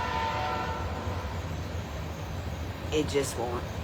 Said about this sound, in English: don't try to overtalk a train